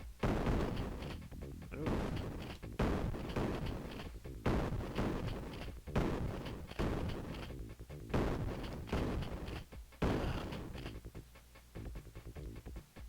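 Heavy booming shotgun blasts from an action video game fire in a steady rhythm, roughly one per second, each loud and punchy with a short tail; a brief voice exclamation is heard once.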